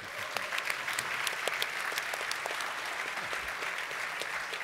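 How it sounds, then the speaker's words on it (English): A keynote audience at the Adobe Creative Cloud 2015 event in Berlin bursts into sustained applause, a dense, even wash of many hands clapping at a steady level throughout. "you can clap"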